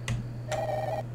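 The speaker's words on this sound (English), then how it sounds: "Can you get the phone?" A telephone rings in the video game Lock Heart Indigo, two clear electronic trills, one short and one longer, over a steady low hum with no voices.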